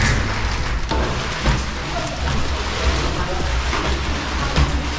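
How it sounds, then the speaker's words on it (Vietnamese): Steady rain falls outdoors near the Lũng Cú flag tower in far northern Vietnam, a dense, even hiss of drops with low rumbling underneath that carries on unbroken throughout. "Trời mây mưa quá."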